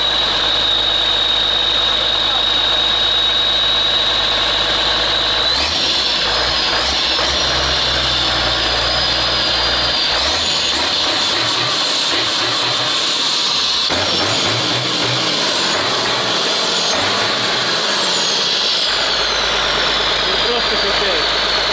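A large CASE 6TA-830 diesel engine idles loudly and steadily close by, a heavy droning rumble with a high whine that rises and falls as the revs change.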